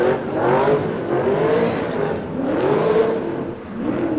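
Drift car, an 86, revving hard and accelerating into a corner at a D1NZ championship qualifying round at Baypark Stadium in Tauranga; a loud, sustained engine roar rises and falls in pitch throughout.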